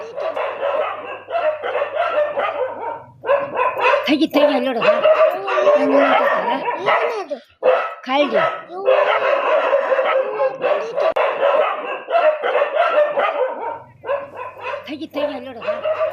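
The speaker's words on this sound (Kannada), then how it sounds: "ನಾಯಿಗಳು ಬೊಗಳ್ತಾ ಇದೆ ಸುತ್ತ." Dogs bark around a village in Koppal district, Karnataka, where a bear has appeared. The barking is mixed into nearly continuous talk and is never heard clearly on its own.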